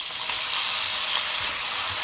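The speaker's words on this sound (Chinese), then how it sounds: "翻炒均匀" Shiitake mushrooms with minced garlic stir-fry in a hot wok, giving a steady loud sizzle throughout with faint scraping of stirring.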